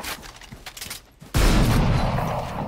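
Gunfire in the tactical shooter Valorant: scattered shots and clicks give way to a sudden loud, dense burst of firing and impact noise that holds for the rest of the clip.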